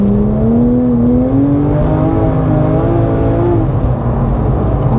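Porsche GT3 engine pulling steadily while driving, a loud continuous drone with a rising and shifting tone, brief voices speaking over it.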